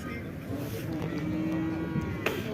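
Cattle low with drawn-out moos at a crowded livestock market in Karakol, selling young bull calves, against a steady murmur of crowd noise, with one clear sustained call and shorter lows around it.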